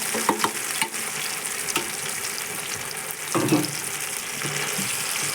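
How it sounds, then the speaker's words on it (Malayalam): Cassava pieces frying in ghee for a payasam, a close, steady crackling sizzle broken by scraping stirs and a louder splutter midway, with no voices. "ഈ കപ്പ നമുക്ക് ഈ നെയ്യിലിട്ട് ശരിക്കും ഒന്ന് വരട്ടിയെടുക്കണം"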